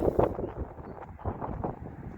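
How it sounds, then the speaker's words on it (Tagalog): Wind gusts through a vegetable garden of mint, basil, beets, cabbage and tomato plants, buffeting the microphone in low rumbling bursts with a strong gust at the start, and no talk. "Crazy day, it's windy."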